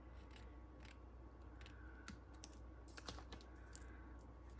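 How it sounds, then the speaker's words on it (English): Scissors snip through a crochet doily, cutting it in half with a series of short, close, crisp snips over a steady low background hum. "So let's cut this in half."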